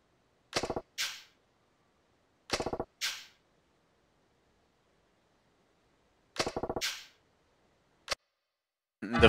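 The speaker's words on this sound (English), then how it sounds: "fireworks." Fireworks in the video game Yakuza 4: a few sharp crackling pops arrive in separate short bursts, each followed by a brief fizzing tail, with stretches of near silence in between and a louder burst at the end.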